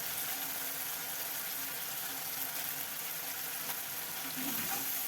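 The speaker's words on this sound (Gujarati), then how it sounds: "હવે એમાં નાખું લીલું લસણ" Chopped green garlic sizzling in hot oil as a tempering for Kathiawadi dahi tikhari, a steady close crackle and hiss of frying that holds throughout without talk.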